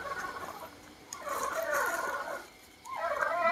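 A brooding hen sitting on eggs gives a steady run of low, throaty clucks and drawn-out calls, fairly close and continuous, with no talking over it.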